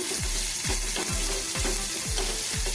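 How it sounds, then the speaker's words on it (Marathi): Finely chopped onion frying in hot oil with asafoetida for tempering, a steady loud sizzle. A spoon stirs and scrapes the pan about every half second. "एक टेबलस्पून कांदा मी अगदी बारीक चिरून घेतलेला आहे फोडणीसाठी तो थोडा आपण परतून घेऊया"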